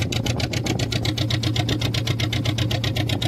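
A fishing boat engine runs fast with a rapid, even mechanical chatter, close and continuous for the whole stretch, with no voices.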